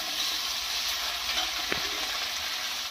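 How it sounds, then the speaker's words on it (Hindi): Paneer frying in hot oil gives a steady, close, even sizzle with a soft crackle throughout and one brief clink of a utensil near the middle. "पनीर को फ्राई कर लेते हैं।"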